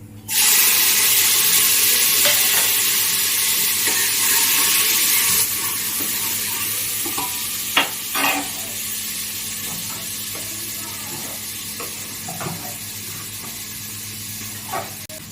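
Cumin, tomato and chili sizzle loudly in a hot pan, a steady bright hiss that softens partway through, broken by a few scraping stirs and knocks of a spoon against the pan.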